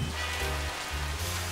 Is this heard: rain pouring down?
yes